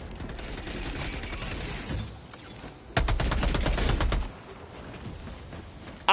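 SMG gunfire aimed at Illuminate drones in the video game Helldivers 2: a rapid burst of close shots rattles out in the middle, framed by quieter stretches of gunfire and ambient game noise.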